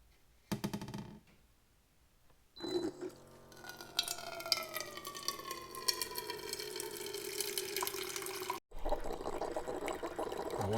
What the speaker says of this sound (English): Now we can flush the internal reservoir.